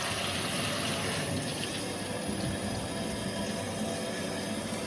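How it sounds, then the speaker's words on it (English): Steady, full rush of water from a waterfall-style faucet pouring into a kitchen sink basin, continuous and close with no breaks. "And then the next one is this waterfall here."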